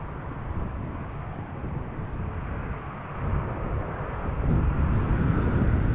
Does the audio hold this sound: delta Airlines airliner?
yes